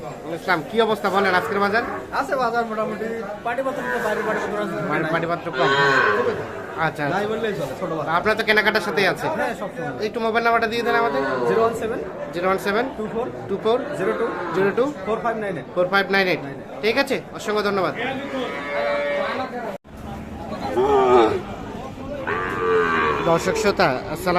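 Young calves moo repeatedly at a crowded cattle market, loud overlapping bellows rising and falling close by, mixed with steady chatter from people talking nearby.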